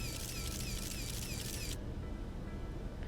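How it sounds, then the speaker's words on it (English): A camera shutter clicks in a dating video game, crisp repeated mechanical snaps over a constant bed of game ambience before the bright clicking texture abruptly stops. "I click the shutter"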